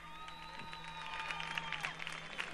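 Applause from an audience at a Carnival murga performance, a steady wash of clapping lasting a couple of seconds with a faint tone and crowd murmur underneath.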